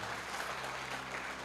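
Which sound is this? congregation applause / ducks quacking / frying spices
congregation applause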